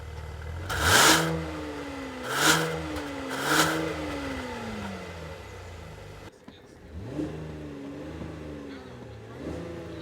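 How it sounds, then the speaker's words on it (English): A muted engine of a 2017 Buick LaCrosse hums low in the background, under a few louder chime-like tones and some talking. "can you hear the engine? It's under there, but it's very muted."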